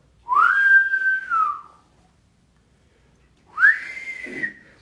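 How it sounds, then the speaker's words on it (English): Two whistled notes, each a tonal pitch sweep lasting over a second, separated by a short silence. They are clear and close with no talk. "when somebody blows my mind, pause, I throw that whistle up"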